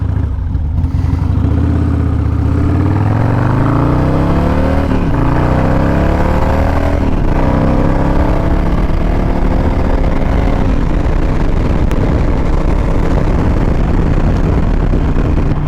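Freshly tuned Harley-Davidson Road King motorcycle riding around the block, its loud, close engine note rising and falling through repeated throttle revs and gear changes with a steady rumbling drone throughout.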